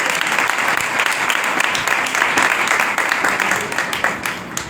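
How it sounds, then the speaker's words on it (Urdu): A church congregation at a Palm Sunday service bursts into loud, sustained applause, dense clapping close by that fades slightly toward the end. "اگر آپ یہ تالی بجانے کی پوزیشن میں ہیں"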